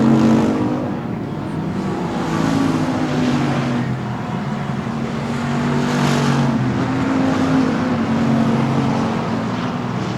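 Race cars at Texana Raceway Park during the Summer Showdown roar steadily around the track, engines droning loud and continuous with slight swells as they pass.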